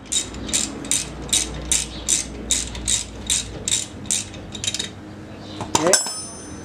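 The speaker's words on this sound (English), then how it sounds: "And then we'll just take that bolt off" A ratcheting wrench clicks about a dozen times in a steady rhythm, close and clear, loosening a brake caliper bolt on a 2006–2011 Honda Civic Si, then ends with a short metallic clatter.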